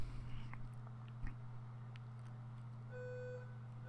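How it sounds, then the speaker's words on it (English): A building fire alarm test sounds as a brief steady electronic beep near the end, faint and distant over a low hum and scattered small noises, with no talking. "Oh, and there's the fire alarm test."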